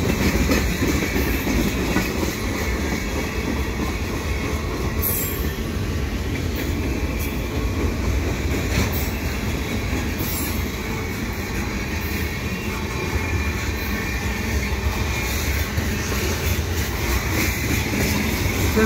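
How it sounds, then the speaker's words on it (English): An eastbound train passes Dorval station at night, a loud, continuous rumble with rhythmic wheel clatter over rail joints holding steady throughout, close by, with insect chirps in the background. "So an eastbound train."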